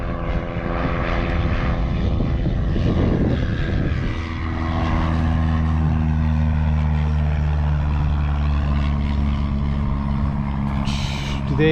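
A propeller airplane passes low over a remote Vancouver Island coastal trail, its droning engine loud and steady throughout with a rough, rumbling pass early on.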